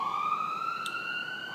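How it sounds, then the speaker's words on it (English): An emergency siren outside wails with a rising, sustained tone, clear and fairly loud, heard alone with a steady background. "And now there's a siren going outside."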